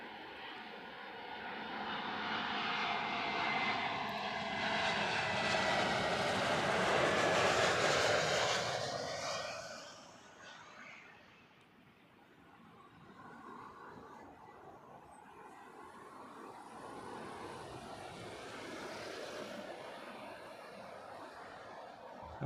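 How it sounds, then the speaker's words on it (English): A JetBlue airliner in from New York arrives at Heathrow, its jet roar swelling loud and broad, then fading away as it passes, leaving a lower distant rumble. "That was JetBlue in from New York."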